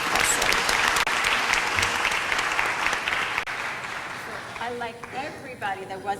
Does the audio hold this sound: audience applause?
yes